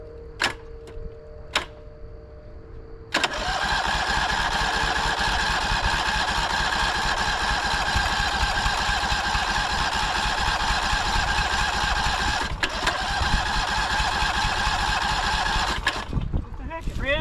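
A Case 1816B mini loader engine cranks without choke after a few faint clicks: a steady, loud starter grind runs continuously for about thirteen seconds without catching, then stops.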